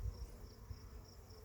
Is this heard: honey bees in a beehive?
yes